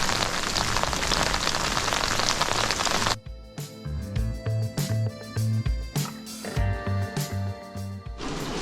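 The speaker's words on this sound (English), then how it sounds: "Rain came from that direction." Dense, loud rain pattering steadily for a few seconds, then it drops away to quieter, irregular drips and taps, with a low rhythmic thumping underneath.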